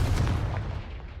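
A short, loud blast from the Confringo fire spell in Hogwarts Legacy: one sharp burst that rolls into a fading rumble, with no voices.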